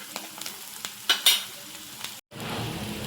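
Spices go into a masala of jackfruit curry sizzling in oil: a few close stirring taps over a low hiss, a brief cut-out, then a fuller, louder sizzle.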